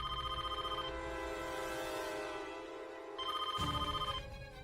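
A telephone rings in a Hindi family drama scene, a repeating electronic ringtone in two spaced bursts, moderately faint over a steady background tone, with no talk.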